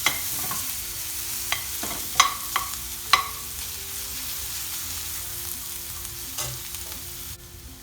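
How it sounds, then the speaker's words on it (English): Onion fries and caramelizes in a pan for a restaurant-style mushroom bhaji, a steady sizzle broken by several sharp clinks and scrapes of stirring, heard close up with no talk. "just wait for the onion just to get really caramelized and soft."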